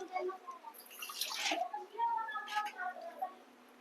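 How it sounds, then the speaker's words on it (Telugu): A lemon-sized lump of tamarind is washed in water in a home kitchen, giving faint, soft splashes and drips that come and go in the quiet. "నిమ్మకాయ అంత సైజ్ చింతపండుని వాష్ చేసుకోవాలి."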